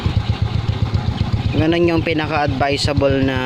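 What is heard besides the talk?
Suzuki Smash 115 motorcycle engine idling after oil change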